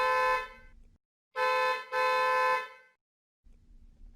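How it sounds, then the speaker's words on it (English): A car horn honks in short loud blasts, one long toot, a gap, then two more close together, with a low engine rumble underneath between them. "A car's honking."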